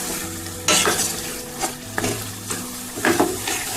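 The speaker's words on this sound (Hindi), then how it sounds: "हम इसे मैं इसको अच्छी तरह भूनेंगे, भुनाई से अच्छी तरह करेंगे इसकी।" Chicken curry being bhuna-fried and stirred in a pan, with steady sizzling and repeated scraping strokes of a spoon at a moderate pace, close up and with no talking.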